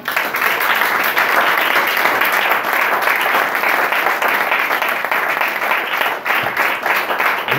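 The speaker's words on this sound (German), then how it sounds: "Also nochmal einen dicken Applaus an diese wunderbaren Künstler." Sustained, dense applause from a concert audience at a live performance of a duo in a lounge in Valle Gran Rey, La Gomera, loud and steady throughout with no talk.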